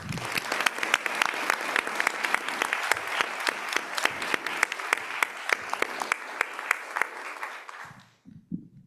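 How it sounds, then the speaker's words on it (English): An audience at a school board of education meeting gives a round of applause, a dense spread of claps with some sharp individual hits standing out, fading away near the end. "If we can give everybody another round of applause, please."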